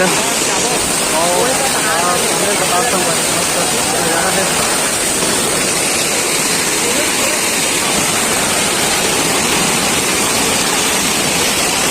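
A waterfall rushes in a constant loud roar of falling water at a crowded scenic outdoor spot, steady and unbroken throughout.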